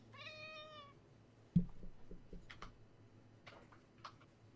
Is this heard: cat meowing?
yes